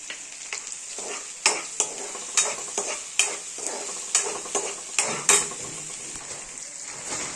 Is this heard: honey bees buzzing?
no